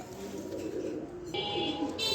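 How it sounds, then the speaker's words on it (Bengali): A pair of racing pigeons coo softly and repeatedly, close by, over a steady background hum with no talking. "দর্শক দেখেন এখানে এক পেয়ার কবুতর দিলাম"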